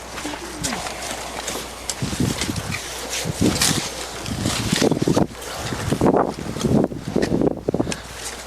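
Gusty outdoor wind buffets the microphone while a tree is planted in Cheyenne, Wyoming, with dirt and sod packed around it; steady rushing noise with louder thumps and rustles throughout, no speech.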